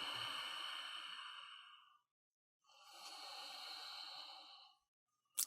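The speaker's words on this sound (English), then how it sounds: "And then take a few deep breaths." Two long, slow deep breaths taken during a yoga pose in an Iyengar-influenced vinyasa flow, each a soft, airy rush lasting about two seconds with a quiet pause between, followed by a short sharp sniff at the end.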